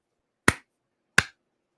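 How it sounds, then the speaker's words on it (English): Two sharp, isolated hand claps or finger snaps, about 0.7 seconds apart, close and crisp against silence during a casual live stream chat. "there's the clap"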